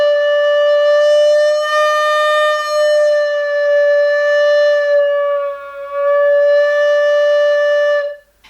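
Recorder holding a sustained tone whose pitch bends slightly up and down as breath pressure changes, a clear, loud, pure whistle-like note lasting about eight seconds.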